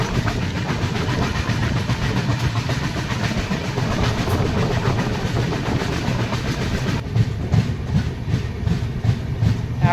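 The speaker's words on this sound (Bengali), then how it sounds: "এখান থেকেই ট্রেন বেশ ভালো স্পিড নিয়েছে।" New Delhi - Malda Town Express running at speed, a steady loud rumble of wheels and carriages with continuous rattling and clatter, heard from on board without talk.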